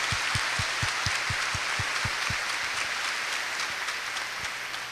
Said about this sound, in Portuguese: Uma salva de palmas para as crianças que nos ajudaram.